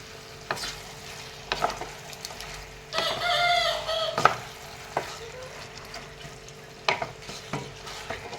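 Chicken meat being stirred in a hot pan for a dry fry, with intermittent scraping strokes over a low sizzle, close by, and a rooster crowing faintly in the background.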